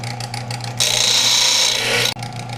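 An old-timer skinning knife is ground against 220 grit sandpaper on a powered sander, producing a loud, steady rasping hiss for over a second between quieter motor hum.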